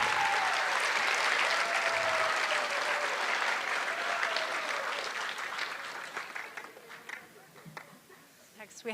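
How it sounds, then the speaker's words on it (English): Applause from an audience at an eighth grade recognition ceremony, loud and sustained through most of the stretch before gradually thinning out toward the end, with a faint voice briefly audible beneath the clapping. "please give them a round of applause."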